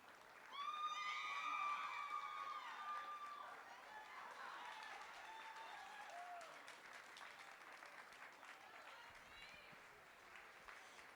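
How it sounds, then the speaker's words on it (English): An audience at a 4-H dairy type judging show applauds with steady, moderate clapping that fades out gradually, while a loud whistle-like squeal rings out near the start. "If you would please just give these kids a big round of applause."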